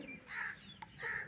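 Chickens on a farm clucking near a hen sitting on eggs, two short rounds of clucking with a brief sharp call between them, moderately faint with no talking.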